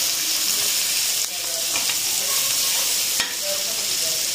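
Spiced potato and chicken filling, seasoned with salt, red chili and roasted crushed coriander, is stirred in a hot pan. A loud, steady sizzle runs throughout, broken by a couple of sharp scrapes of the spoon and no voices.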